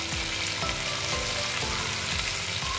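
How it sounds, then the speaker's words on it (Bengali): Fish seasoned with salt, turmeric and chilli powder frying steadily in hot oil, a continuous close sizzle with light scraping and stirring knocks throughout. "এবার আমি এগুলোকে ভালো করে ভেজে নিচ্ছি।"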